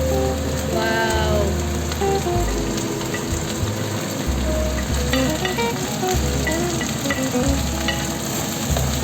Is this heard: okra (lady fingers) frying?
yes